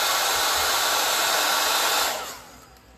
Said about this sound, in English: And then look, I get my blow dryer.